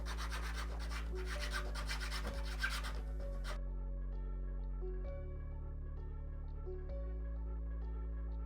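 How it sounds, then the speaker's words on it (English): A part for a DIY Prusa i3 3D printer is filed by hand, giving repeated close rasping strokes for about three seconds before the scraping stops, leaving only a faint steady hum. "File this down a bit."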